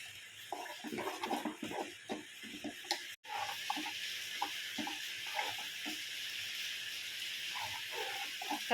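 Curry leaves sizzle in hot oil while tempering for a roasted-coconut mushroom curry, a steady bright hiss with crackling pops that runs throughout, briefly cut off once before resuming, close and moderately loud.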